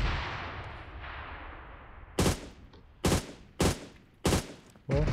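Gunfire in PUBG Mobile: five loud, sharp shots spaced roughly a second apart, each ringing out with a brief echoing tail over faint background noise.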